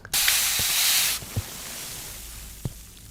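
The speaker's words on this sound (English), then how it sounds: "Spraying water on the mic." Water is sprayed straight onto a microphone in one close, loud hiss lasting about a second, followed by a few faint taps.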